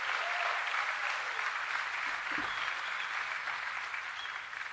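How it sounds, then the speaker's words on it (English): Graduates at a College of Health and Human Services commencement ceremony applaud themselves in a large hall, a sustained, even roar of many hands clapping that holds steady for several seconds. "Yeah, you can applaud for yourselves."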